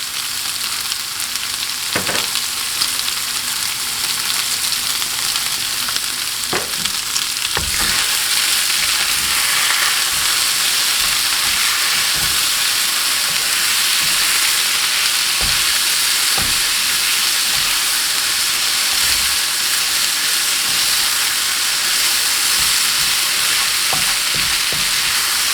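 Bacon and potatoes frying together in a pan for a breakfast burrito, giving a loud, continuous sizzle with occasional scraping clicks from stirring, with no voices.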